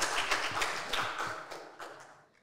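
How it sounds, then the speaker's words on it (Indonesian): An audience at an Islamic preaching talent show applauds a performer, a dense patter of clapping that fades away over a couple of seconds, heard without voices. "Tepuk tangan dong buat Mas Robi yuk."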